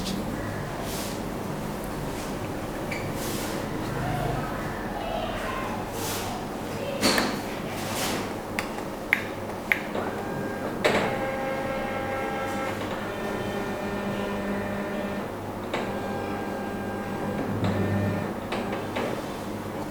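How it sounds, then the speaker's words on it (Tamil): A Konica Minolta 205i copier scans a document: a low mechanical hum with a few sharp clicks and a steady whirring tone midway, close and fairly quiet, with no one talking. "இப்போ நம்ம ஸ்கேன் பண்ணலாம்."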